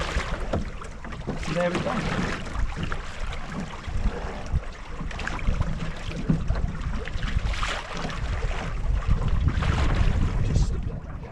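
A sailboat reaches across a lake in a northwesterly wind, with steady wind rush buffeting the microphone and water washing along the hull close by. Someone speaks briefly over the noise.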